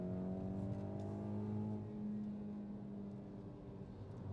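Hyundai i20N hot hatch with manual gearbox accelerating in second gear toward about 5,000 rpm, a steady engine drone with rising harmonic tones heard from inside the cabin, fairly loud and continuous with no talking.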